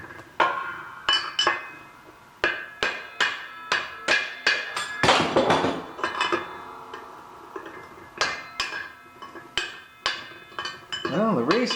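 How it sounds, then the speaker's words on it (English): An old dull chisel is pounded by a hammer to knock out a bearing race from a plow, a steady series of sharp metallic strikes about twice a second, close and loud, with a brief pause midway. "we're going to take an old dull chisel and see if we can just pound this sucker out"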